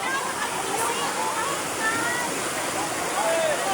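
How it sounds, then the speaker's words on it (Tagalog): Strong floodwater rushes in a steady roar around a Toyota Hilux swept along by the flood, loud and continuous throughout. "Kusog na jud kaing baha."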